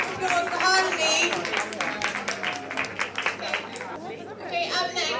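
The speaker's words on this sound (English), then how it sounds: "Let's get loud applause for Harmony." Audience applause with scattered clapping rises over crowd chatter, fairly loud and sustained, with a voice speaking briefly over it.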